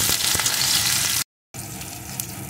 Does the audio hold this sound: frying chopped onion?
yes